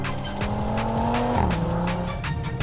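A Mercedes-AMG A45 S engine revs hard and steady, a gruff, aggressive drone with rising and falling pitch and crackling pops on top.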